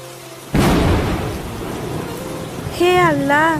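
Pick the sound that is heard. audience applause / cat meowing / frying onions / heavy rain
heavy rain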